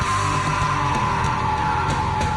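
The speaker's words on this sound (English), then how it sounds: "Really powerful screams there." Screamed metal vocals from a song, played live, ring out over dense distorted guitars and pounding drums in a loud, continuous wall of sound.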